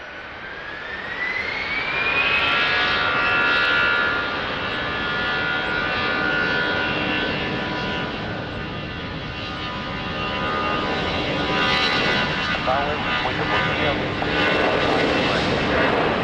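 A jet airliner roars on the runway at Lisbon Airport, a loud sustained engine whine rising in pitch and then holding, with faint talk in the background.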